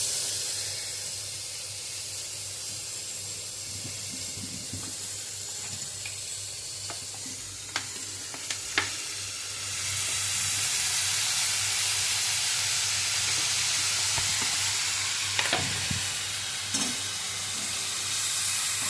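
Carrots, beans and onion stir-frying with salt and soy sauce for fried rice: a continuous close sizzle with stirring scrapes, swelling into a louder hiss midway as the sauce hits the pan.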